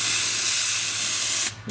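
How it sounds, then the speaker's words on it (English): Compressed air hisses steadily as it is sprayed up a plugged brake line tube on a car, a loud, close, continuous rush that cuts out briefly near the end before resuming. "Okay, so we're spraying up the tube"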